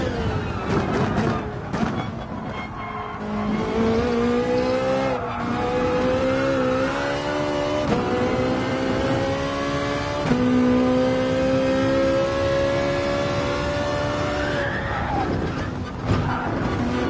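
Ferrari race car in a racing video game sliding on the edge of grip, engine note rising and falling with steady tonal whine and a brief squealing skid, loud and continuous with no talk.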